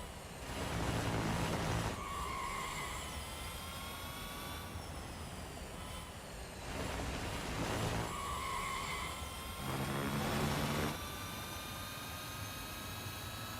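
A Porsche Taycan Turbo GT electric car racing in the Real Racing 3 mobile game, its high electric whine rising and falling in long sweeps over a constant rushing road noise, with other cars passing close.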